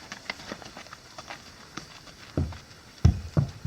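A mare's hooves clop across a rain-wet wooden bridge on a trail, a few soft irregular steps followed by louder, heavier hoof strikes near the end, with no talking.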